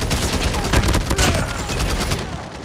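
Call of Duty video game gunfire, a dense, loud, continuous volley of rapid shots and booms close by, with no clear speech over it.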